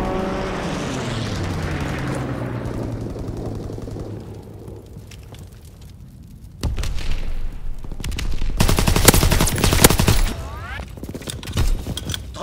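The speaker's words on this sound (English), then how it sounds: "Strafing run inbound." Machine-gun fire from an aircraft strafing run in a video game erupts as a loud dense burst of rapid shots after a fading engine roar and a quieter stretch, with more scattered reports trailing off.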